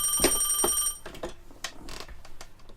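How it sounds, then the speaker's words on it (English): A telephone bell rings twice in quick bursts, fairly close in a home, followed by a few soft clicks and handling sounds. "Oh, the phone's ringing."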